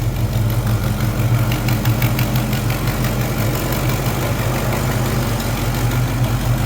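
A car engine idling after a throttle adjustment, a loud, steady, close rumble with an even low-pitched throb and no change in revs; no voices.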